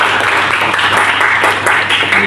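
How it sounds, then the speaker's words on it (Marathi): Dense, steady applause from an audience congratulating a newly selected Mumbai city police recruit, filling the brief moment at an even level with some voice mixed in. "आपण सगळेजण जोरदार टाळ्या वाजून तिचं अभिनंदन करूया"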